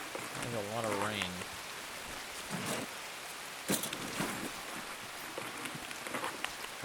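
Rain hisses steadily in an Escape from Tarkov match, a broad continuous wash broken by occasional sharper drips and taps, with someone talking briefly at the start over it.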